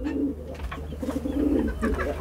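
A caged pigeon or dove coos in soft, repeated low rounded phrases, close and fairly clear against faint background noise.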